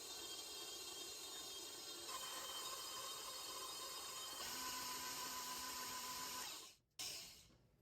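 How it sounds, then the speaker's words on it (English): An electric mixer beats butter and sugar for an orange butter cake, a steady, fairly loud motor whine that shifts pitch slightly a couple of times before cutting off near the end. "I'm stopping the mixer again so that I can scrape it down"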